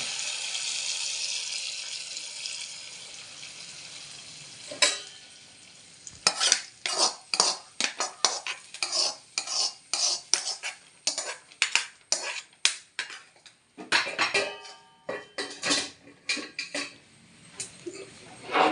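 A spoon scrapes and stirs jackfruit payasam with coconut and cashews in a pot, starting as a quiet simmer and then turning into rapid, loud, rhythmic strokes against the metal.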